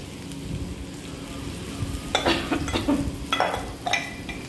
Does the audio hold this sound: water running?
no